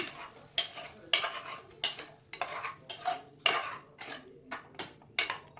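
A utensil scrapes and stirs potato, broad beans and tomatoes in a pan, about a dozen sharp, regular scraping strokes close up, with a faint sizzle underneath and no speech.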